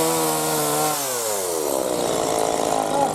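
A saw cutting firewood during village chores, a steady rasping drone that shifts pitch as the blade works through the wood, fairly loud and close with no voices.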